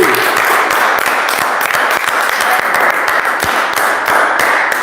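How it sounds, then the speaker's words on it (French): Church congregation applauding during a Sunday service, a dense, steady wash of many hands clapping close and loud for the full stretch, with no speech over it. "Applaudissons pour Jésus."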